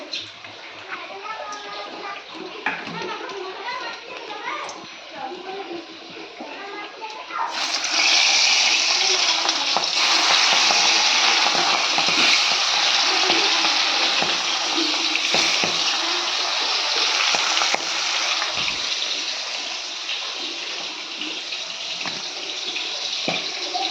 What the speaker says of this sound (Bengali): কড়াইতে আমি তেল দিয়ে দিয়েছি, এবার মাছগুলো ভেজে নেব।